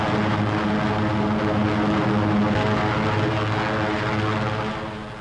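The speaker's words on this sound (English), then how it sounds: "And here are the heavies, giant flying fortresses that drop their tons of high explosives on pinpoint targets." B-17 Flying Fortress heavy bombers in flight, a loud, dense, continuous drone of piston propeller engines that holds steady and fades slightly at the end.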